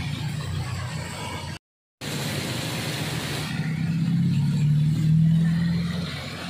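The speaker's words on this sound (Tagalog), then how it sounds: "Traffic." Steady street traffic rumbles nearby, with engines passing and a swelling vehicle drone late on, broken by a brief dropout of silence.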